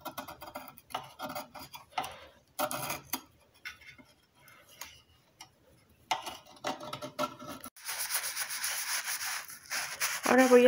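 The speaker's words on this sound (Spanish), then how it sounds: "voy a empezar quitando las costras gruesas" Someone scrapes thick crusts of grime off an air compressor that won't start and only vibrates. Short, irregular bursts of scraping and rubbing come in bunches with pauses between them, and a denser, steadier scraping stretch follows near the end.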